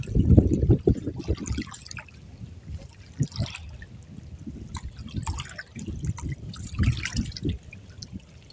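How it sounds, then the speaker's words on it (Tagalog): Mud crab being washed in seawater, with irregular splashing and sloshing bursts, close and fairly loud, some trickling between the surges. "hugasan po natin itong alimango doon sa dagat"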